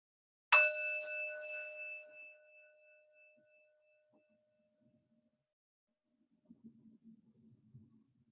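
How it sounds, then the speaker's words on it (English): A meditation bell chimes once, bright and clear, and rings out slowly over several seconds until it fades into near silence, followed by faint low rustling. "And I'll start and end the practice with the chime of the bell."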